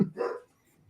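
A female dog lets out one short, sharp bark nearby, followed by quiet.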